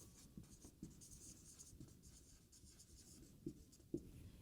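Pen or chalk writing during a civil engineering lecture on chain surveying, faint scratchy strokes in irregular bursts with a few sharper taps, no talk.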